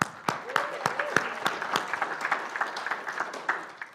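Scattered clapping from a church congregation, with sharp individual claps standing out over a soft murmur of voices.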